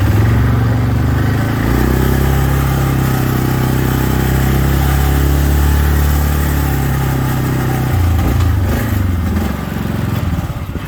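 A carbureted motorcycle engine in a garage, running loud and close with a steady low rumble that drops and shifts near the end.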